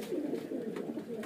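Pigeons kept for sale coo nearby, a low, warbling, continuous burble with a slight pulsing rhythm and no voices over it.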